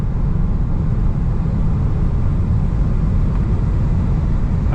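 A 2026 Tesla Model 3 Performance accelerates hard on a quarter-mile drag run, giving a steady, loud low roar of road and wind noise from inside the car, unbroken for several seconds with no talk.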